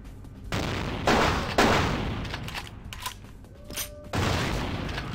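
Gunfire in Vampire: The Masquerade - Bloodlines, heard as several loud, sharp shots and bursts at irregular intervals with busy game noise between them.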